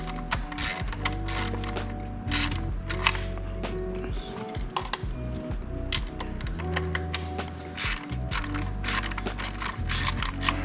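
Steady clicking of a 1/4 inch ratchet turning a bolt out during spark plug work on a Kia Stinger GT, a fast close-up ratcheting rhythm continuing without talk.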